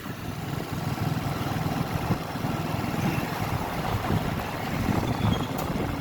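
Wind rushes steadily past a moving vehicle on a drive, a continuous broadband roar that stays loud and even for the whole stretch, with no voices.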